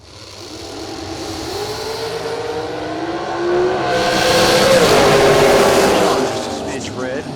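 A drag race car's engine revs and climbs in pitch at a drag racing event, growing louder toward the middle before easing off, with an announcer talking over it.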